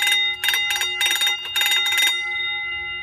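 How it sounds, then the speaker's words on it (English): An old-school bell, likely an alarm-type bell, rings out loud, sharp bursts in a rhythmic Jingle Bells pattern, then leaves a long sustained metallic ring fading alone. "we'll play Jingle Bells with the Bell"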